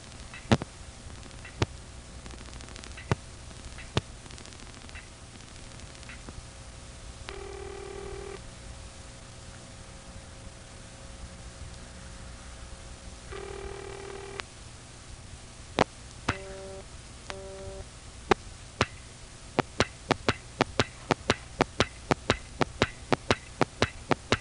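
Stromberg-Carlson XY step telephone switching equipment runs under a steady hum, with scattered sharp relay clicks, brief buzzing tones, and a fast burst of rhythmic stepping clicks toward the end.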